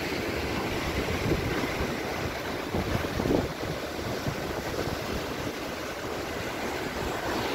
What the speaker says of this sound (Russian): Такое впечатление, что море в Монороле всегда такое бушующее.